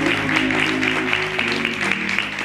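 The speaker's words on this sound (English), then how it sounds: "why don't you just give God a hand clap of praise for that?" A church congregation claps together in praise during a sermon, a steady, dense patter of hands that holds evenly throughout, with a sustained musical tone underneath.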